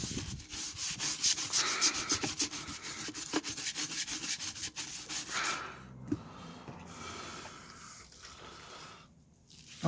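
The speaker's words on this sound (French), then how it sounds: "Faut frotter un peu, c'est sûr." Steady, rhythmic scrubbing of a car wheel rim during cleaning, a close, continuous rubbing and brushing that fades after about six seconds into quieter, scattered contact noises.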